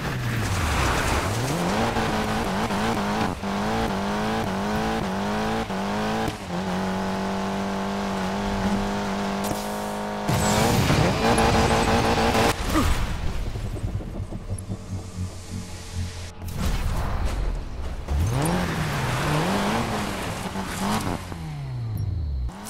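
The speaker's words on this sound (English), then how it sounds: "Drive off the ramp behind the billboard to smash through it." Off-road car in Need for Speed Payback roars and revs through gear shifts, tires squealing, with loud crashing impacts as it launches off a ramp and smashes through a billboard.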